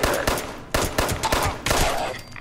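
Rapid gunfire in the video game Fallout 76 sounds as three quick bursts of sharp, close shots with short pauses between them.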